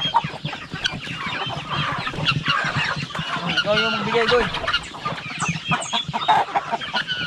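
Chickens, hens and roosters, cluck close by while eating feed on a farm, with steady overlapping clucks and calls mixed with background noise; a person speaks briefly.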